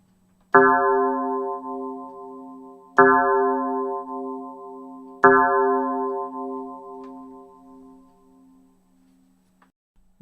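Three evenly spaced synthesized clock spiral gong strikes, imitating an old mechanical clock striking the hour, each a bright metallic tone with a buzzy low hum that rings out and slowly fades, alone.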